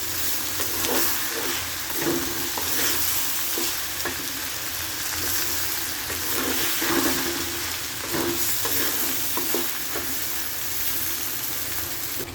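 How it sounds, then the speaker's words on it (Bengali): Rice grains frying in a pan, giving a steady, close, even sizzle with light crackles and stirring scrapes throughout, with no talking. "চালগুলো 2-3 মিনিট আমি ভেজে নেব"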